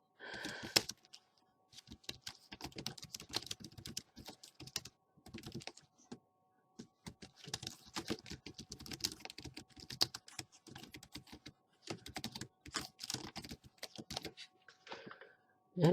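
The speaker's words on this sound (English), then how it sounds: "So we can go ahead and just type in" Keys clatter on a computer keyboard in irregular, close bursts of quick clicks with short pauses between them. No one speaks.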